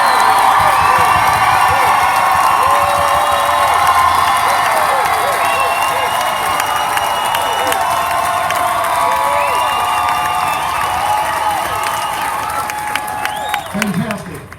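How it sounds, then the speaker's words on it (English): A crowd at the 2017 pun-off competition at the O. Henry Museum applauds and cheers for the contestant Southpaw. The clapping and whooping are loud and sustained, then ease slightly near the end. "let's hear your applause for Southpaw"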